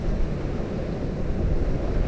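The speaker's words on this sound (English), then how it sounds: "the wind's just smashing in and the waves are crashing up, big swell" Strong wind buffets the microphone while big swell waves crash along the coast at Caleta de Fuste, Fuerteventura, a loud, continuous roar with no talking.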